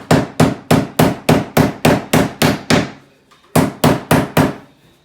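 A hammer strikes plank flooring being fitted in an entryway, about fifteen sharp, loud, evenly spaced blows in two bursts with a short pause between, close and alone.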